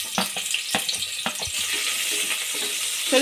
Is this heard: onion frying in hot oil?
yes